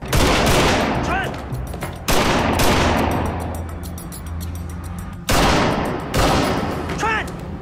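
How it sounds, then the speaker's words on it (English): Heavy gunfire as people shoot, loud overlapping volleys that crack in, ring out and decay before fresh bursts strike again; voices call out in between. "People are shooting."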